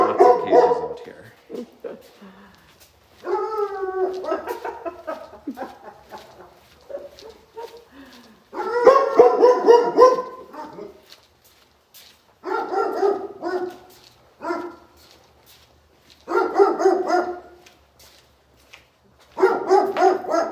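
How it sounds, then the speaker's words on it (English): Dogs at the Shawano County Humane Society shelter barking outdoors in repeated clusters, loud and fairly close, with some yips and whimpering between bursts. "right here are a few of the dogs that we have available at the shelter right now that are spending some time outside today"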